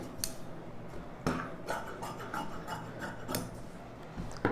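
Scissors cut through lining fabric for a blouse in a few quiet snips and rasping slides, close and faint, with no voices over it.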